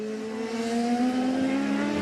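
A Champ Car race car screams around Circuit Mont-Tremblant, its engine holding a steady high-pitched whine that swells louder as it nears, a single sustained pass heard alone.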